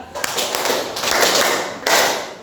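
Children clap a five-clap pattern in a classroom, producing sharp, close claps in a quick rhythmic run followed by a final louder burst, with no talk.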